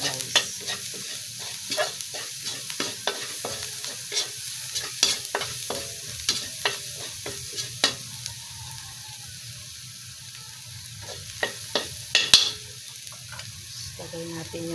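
Food toasting in a pan while being stirred, for a chicken pastil dish, with a soft steady sizzle under repeated scraping and stirring clinks from a utensil.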